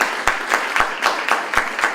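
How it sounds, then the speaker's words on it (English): Lecture audience at Howard University clapping in a steady, even rhythm of sharp claps, fairly close and with no talk over it. "Let's have a round of applause for that"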